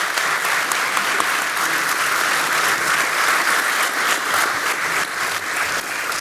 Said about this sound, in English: A round of applause, please, for our fantastic panel speakers.